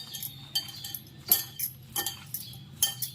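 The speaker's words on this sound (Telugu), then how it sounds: "ఇప్పుడు శుభ్రం కలుపుకుందాం" A spoon stirs sweet corn batter mixed with rice flour in a bowl, giving quiet, irregular clinks and taps against the bowl with soft scraping between them and no talking.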